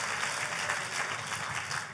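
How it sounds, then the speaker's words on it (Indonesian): Enthusiastic applause from a church congregation fills the room, a dense, even wash of many hands clapping continuously at moderate volume. "Kita kasih tepuk tangan yang paling meriah buat Tuhan kita"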